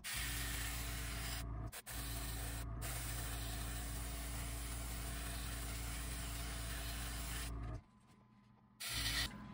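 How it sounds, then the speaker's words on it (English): An airbrush sprays red paint on a wooden crankbait, a steady close hiss broken by a few short pauses as the trigger is released. "I'm just going to go with the airbrush along that pattern there with the red"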